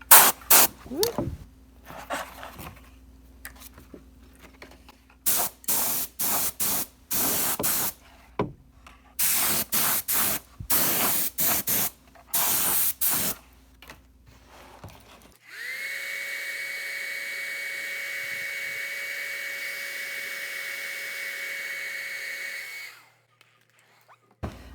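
Spray gun spraying custom leather colour onto a leather steering wheel: a string of short clicks and bursts, then a single sustained hissing spray with a steady tone lasting several seconds, close and loud.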